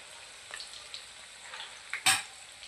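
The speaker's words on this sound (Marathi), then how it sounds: "छान दोन्ही साईडने आलटून पलटून आपल्याला इथं तळून द्यायचे आहेत" Karanji pastries deep-fry in hot oil, a soft continuous sizzle with scattered bubbling pops and one sharp, louder crackle near the end, heard up close with no talk.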